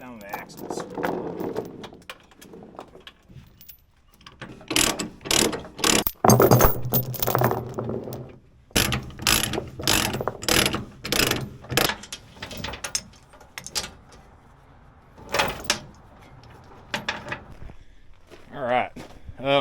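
Ratchet tie-downs are cranked to secure a dually pickup truck by its axles, making bursts of rapid metallic clicking and clanking in repeated short runs, close by, with someone talking between them.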